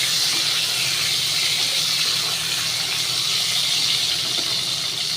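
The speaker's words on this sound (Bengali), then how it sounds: "উচ্ছেগুলোকে একটু কড়া করে ভাজতে হবে।" Bitter gourd frying crisp in a pan with salt, alongside potato and long beans, giving a loud, steady, close sizzling hiss that carries through unbroken with no talk.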